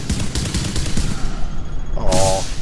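Loud, close gunfire from a weapon in a video game, a dense run of rapid shots filling the whole stretch, with a brighter burst near the end and no talking.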